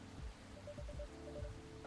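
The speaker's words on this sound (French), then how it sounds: "J'adore la pluie. C'est quelque chose cette pluie." Rain falling in the video game Coffee Talk 2, a faint, steady patter under quiet ambient tones with no speech.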